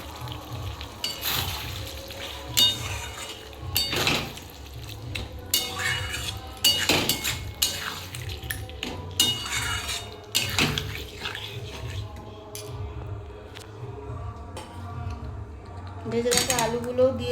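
A spoon scrapes and clinks against a metal pot while boiled mutton is stirred and sautéed in spiced gravy, in irregular knocks and scrapes with soft sizzling, fairly close and moderately quiet.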